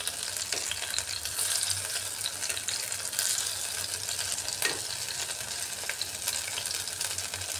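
Fish pakoras fry in hot oil in a steady, close hiss of bubbling sizzle, with a few sharper pops rising above the constant crackle.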